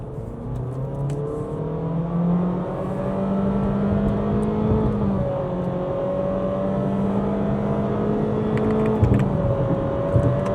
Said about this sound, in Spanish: Lo que sí vamos a hacer ahora nuestra prueba de aceleración, desactivamos control de estabilidad, bueno, frenamos completamente, pedal a fondo.